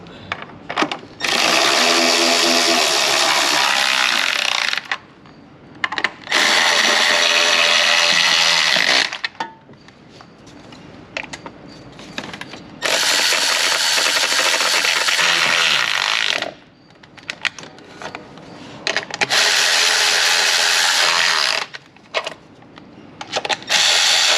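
A power ratchet tightens valve cover bolts on a Ford 2.0 liter engine, with loud buzzing bursts of several seconds each repeated four times, close up, separated by quieter pauses with clicks and handling noise.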